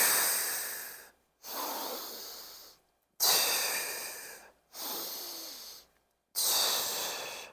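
Forceful breaths through the nose and mouth during a mat Pilates exercise, five long hissing exhalations in a regular rhythm with short silent gaps between them, close and clear.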